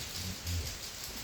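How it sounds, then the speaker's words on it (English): Steady rain falling outdoors over grass at a campsite, a continuous close hiss with no breaks and no talking. "it's raining"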